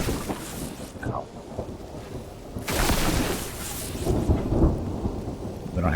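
Thunderstorm in the video game Mind Over Magic: loud rolling thunder and booms over a steady heavy downpour of rain, continuous throughout with no voices.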